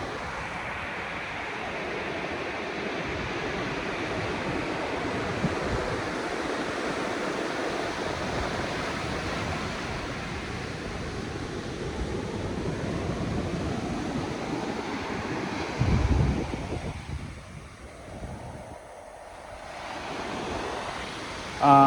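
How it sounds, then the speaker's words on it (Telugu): Sea waves wash up on the shore at Chirala Beach. The surf makes a continuous, loud, broad roar with wind buffeting, and a brief surge swells near the end. "సముద్రం కెరటాలు మన కాళ్ళ దగ్గరికి వచ్చి మన కాళ్ళని టచ్ చేయి మళ్ళీ వెనక్కి వెళ్ళిపోతుంటే"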